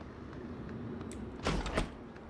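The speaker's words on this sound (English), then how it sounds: "I did open that door." A sci-fi door in the video game Prey (2017) slides open with a mechanical whoosh, a short double burst rising above a steady ambient hum; nobody talks.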